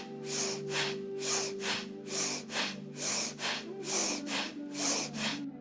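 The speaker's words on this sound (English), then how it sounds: "breathing fast and strong, opening up the body and letting go" Fast, forceful breathwork breathing during an energizing session: about a dozen sharp, rhythmic breaths in quick succession, close and steady, over a soft sustained background tone.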